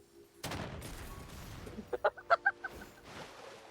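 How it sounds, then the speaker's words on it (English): Musket fire at a duck in a Genshin Impact hunting minigame: a sharp game gunshot, then a quick burst of bright, tonal duck-like squawks and hit blips in a short rhythmic cluster, fairly faint overall. "And I shoot the duck."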